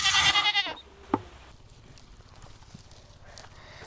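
Goats kept on a small Slovenian farm give a loud, quavering bleat near the start, followed by quieter farmyard sounds and a faint distant bleat later.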